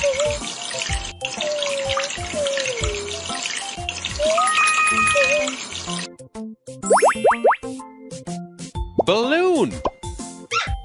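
Cartoonish water splashes and plopping droplets from a shower sound as a puppy is washed in a kids' pet care video game, alongside bouncy chimes and playful game effects.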